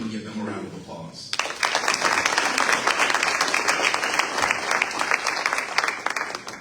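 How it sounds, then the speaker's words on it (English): Sustained round of applause from a crowd at a chamber of commerce mayoral breakfast, bursting in after a second of quieter room sound and holding steady as dense clapping for several seconds. "We can give them a round of applause."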